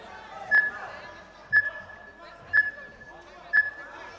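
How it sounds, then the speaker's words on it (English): Short electronic beeps from a 20-second timer at a youth grappling match, four evenly spaced pips about a second apart, sounding under continuous commentary talk and background crowd noise. "you can hear the 20-second timer running in the background"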